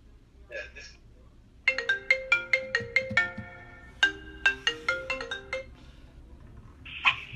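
A mobile phone ringtone plays a repeated bright melodic phrase in a workshop that repairs hornbeam bağlama instruments, loud and close, with a voice speaking briefly before it starts.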